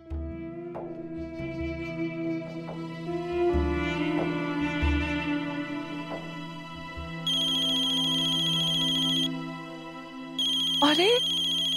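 A mobile phone ringtone plays a repeating electronic melody in a domestic setting, fairly loud and steady, with a pause before it resumes; people talk in between.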